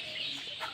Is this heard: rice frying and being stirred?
no